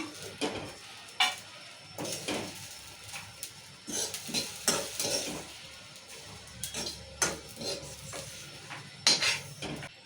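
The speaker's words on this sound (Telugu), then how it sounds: "ఇలా ఇంకొక చుక్క నూనె వేసుకున్నాము మిరపకాయలు వేసుకోండి ఇప్పుడు మిరపకాయలు వేసుకున్నాము" Red chillies fry in a pan of oil while making ivy gourd chutney: a soft, steady sizzle runs under scattered scraping and clinking of a utensil stirring, all fairly faint and close.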